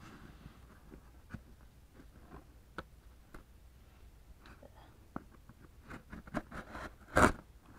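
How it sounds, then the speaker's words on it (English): Old scissors snip and scrape faintly at a plastic eBay mailer, soft scattered clicks leading to one louder ripping cut near the end, with quiet breathy sounds nearby. "Got the scissors. Move Mabel back there with the others. And let's open this thing"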